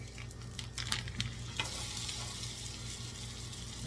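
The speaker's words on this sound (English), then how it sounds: "Now we're gonna put in our maple sausage. We're gonna grind this up." Maple sausage being broken up and stirred in a cooking pot, giving a quiet sizzle with soft scraping and tapping strokes early on, then a low, steady frying hiss.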